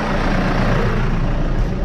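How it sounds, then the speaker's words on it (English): A farm tractor idles nearby with a steady, dense engine rumble during feed grinding with a Farmhand 840 hammermill, loud and continuous with no talk over it. "The tractor's just idling."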